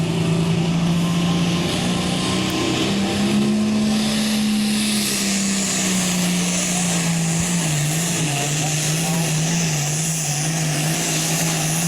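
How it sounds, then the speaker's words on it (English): Tractor engine at a 2021 Linn County tractor pull gives a loud, continuous roaring drone that holds steady for the whole stretch, its pitch rising slightly and then dipping as the pull goes on. "he gets a really good run of the tractor"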